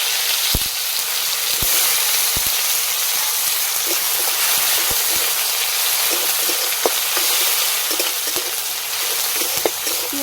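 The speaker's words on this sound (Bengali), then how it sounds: "পেঁয়াজটা হালকা লাল লাল করে ভেজে নেব" Chopped onion fries in hot oil with bay leaves and dried red chillies in a pan, giving a loud, continuous sizzle and hiss with occasional sharp crackles and pops.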